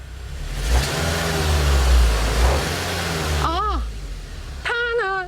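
A car engine with a simulated ignition-system fault revs under throttle, giving a loud, sustained, slightly uneven roar, with a voice briefly heard near the end.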